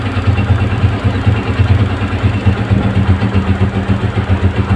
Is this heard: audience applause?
no